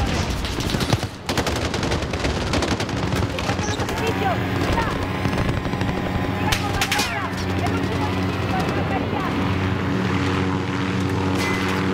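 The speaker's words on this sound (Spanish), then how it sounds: "Derriba un helicóptero y fueran." An enemy helicopter in the video game Call of Duty: Modern Warfare drones steadily with its rotor hum under bursts of gunfire and battle noise, loud and continuous.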